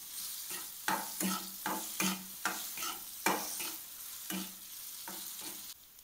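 Kadam chutney with crushed ginger stirred in a pan, a series of rhythmic scraping strokes of a spoon about every half second over a soft sizzle, close and unaccompanied by speech.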